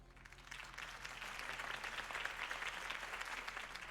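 Crowd applause fills a Batman video game scene after a campaign speech, a dense, steady roar of many hands clapping that swells after a soft start and holds loud for several seconds.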